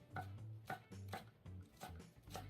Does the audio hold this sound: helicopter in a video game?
no